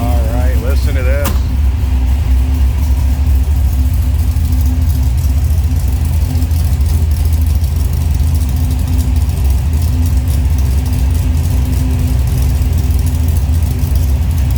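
Close by, the 440 V8 in a 1968 Plymouth GTX idles with a loud, even low rumble throughout. A short voice-like sound comes in near the start.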